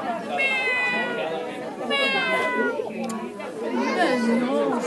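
A voice imitates a cat's meow, with a few rising and falling mewing calls amid lively children's chatter and adult talk in a busy indoor reading-festival crowd.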